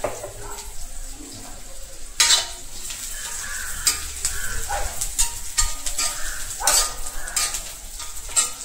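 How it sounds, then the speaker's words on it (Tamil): Onion sautés in a hot pan for a dried-fish thokku, a close steady sizzle broken by sharp stirring scrapes and clinks of a spoon against the pan at irregular moments. "இந்த வெங்காயம் வந்து நல்லா வதங்கணும்."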